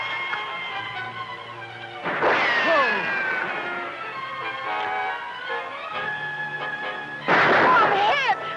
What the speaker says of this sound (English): Keep up this shooting.